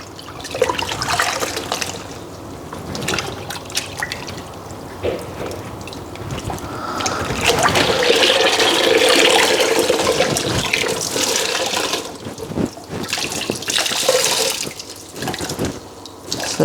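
Water sloshes and splashes in a basin as a woven scarf from a rigid heddle loom is gently hand-washed, with uneven dips and swells of nearby watery movement and occasional drips.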